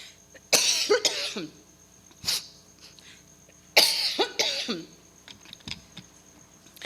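Two bursts of harsh coughing, each a cluster of several coughs, separated by quiet pauses with faint clicks in between.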